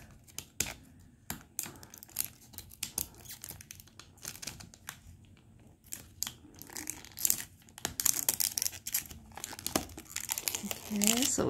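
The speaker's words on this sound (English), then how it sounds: "Okay, so we just take out the plastic right here." Thin plastic wrapping on a Disney Sweet Seams rag doll surprise box crinkles and crackles in irregular bursts, growing busier and louder toward the end, with someone talking quietly underneath.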